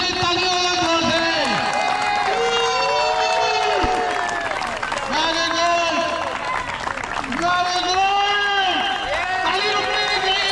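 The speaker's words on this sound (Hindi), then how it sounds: "ताली रुकनी नहीं चाहिए" A crowd at a Diwali party in ParamHans Park claps steadily and continuously under loud overlapping speech and music-like tones.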